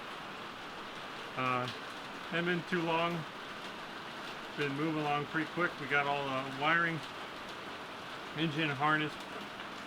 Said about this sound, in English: if you hear some noise in the background, it's sort of raining.